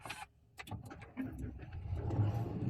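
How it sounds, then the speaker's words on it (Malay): A 660cc kei car engine fires up from a push start button, a short cranking burst giving way to a steady low idle rumble that builds and holds close by, with no talking. "Jom kita start engine, tengok macam mana."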